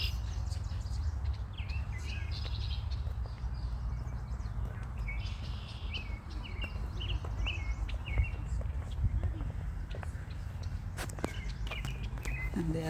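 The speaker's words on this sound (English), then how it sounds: "and there are a lot of birds." Birds chirp and sing in a garden in Toronto, with scattered high calls over a steady outdoor rumble and light rustling or footsteps, moderately distant throughout.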